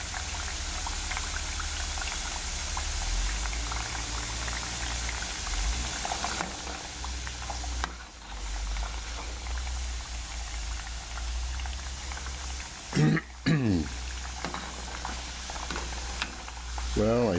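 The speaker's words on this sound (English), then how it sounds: "So what is the frying doing? Of course, it's cooking the plantain and making it soft." Plantains frying in hot oil for tostones give a steady bubbling sizzle that runs through the whole stretch, with a few brief clatters near the end.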